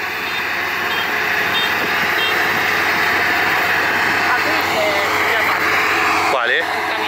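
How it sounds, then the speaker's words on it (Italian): A truck harvesting rice in a Japanese rice field gives a loud, steady engine drone with reversing beeps, and voices talk over the machinery. "Ecco il camion che sta raccogliendo il riso"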